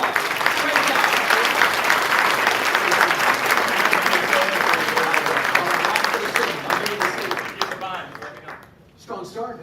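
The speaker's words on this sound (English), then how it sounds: "Let's give him a round of applause." Loud, sustained applause from a large audience at a prison entrepreneurship program business event, dense clapping that fills the room for several seconds before thinning out and fading near the end.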